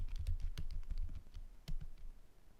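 Rapid typing on a computer keyboard while entering command-line input, a close, uneven patter of crisp key clicks with a slightly louder keystroke near the end, no voices.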